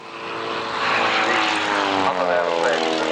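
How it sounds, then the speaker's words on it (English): World Championship aerobatic competition aeroplane flying at a 1994 airshow at Wroughton Airfield, a loud sustained propeller-engine drone that swells and holds steady, with faint talk underneath. "is the current state-of-the-art shape of World Championship aerobatic competition aeroplanes"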